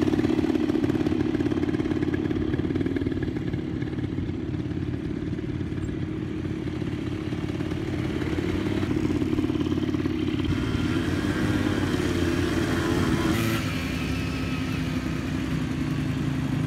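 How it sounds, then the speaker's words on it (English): A 250cc motorbike engine runs steadily in red desert sand near Riyadh, a loud, close, continuous drone with rough clatter and slight rises in revs, with no talk over it. "That bike is 250cc. You can see it has a power and you can reach the top easily."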